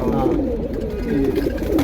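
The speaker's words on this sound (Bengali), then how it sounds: "এখানে অনেক সুন্দর সুন্দর কবুতর আছে" Pigeons coo in a collection of fancy breeds, including Teddy males. Their low, rolling calls are close and continuous, with faint voices underneath.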